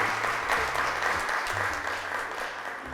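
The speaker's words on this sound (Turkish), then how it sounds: "Alkışlarımızı gönderiyoruz sizlere." Applause for children who just finished a matching game on a Turkish kids' show, a steady dense clapping texture over a low sustained tone in the background, lasting the whole stretch.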